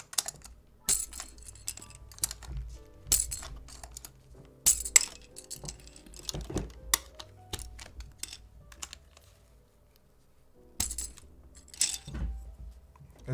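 Someone types on an HHKB Professional Hybrid keyboard with tight keycaps, making bursts of close, bright clacking keystrokes with a coin-like clink, separated by short pauses.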